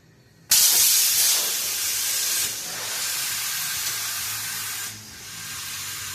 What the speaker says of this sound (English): I'm going to hook up the other air hose. Guys, the pressure's going to be kicking on and off